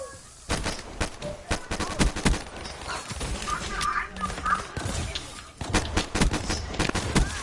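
Gunfire in a multiplayer shooting video game, with bursts of rapid shots and scattered single cracks running through most of the stretch, loud and close, while players talk over it.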